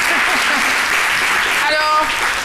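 Studio audience applause on a midday television talk show fills the space with dense, loud, continuous clapping, and a voice briefly speaks over it near the end.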